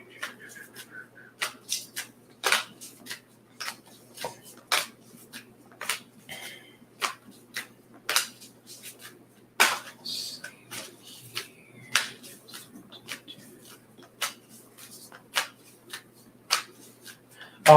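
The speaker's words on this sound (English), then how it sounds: "I'm gonna shuffle these cards pretty damn good too." Deck of playing cards being shuffled in a series of sharp, crisp snaps and riffles at an irregular rhythm, close and fairly quiet, with a few soft background sounds between bursts.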